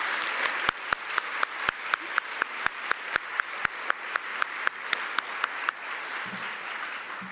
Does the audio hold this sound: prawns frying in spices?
no